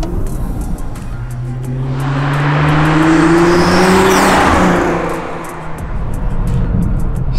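A 2012 Nissan GT-R with a six-speed dual-clutch gearbox accelerating hard, its loud engine note climbing in pitch through a swelling roar, with rising whine tones, then easing off before building again.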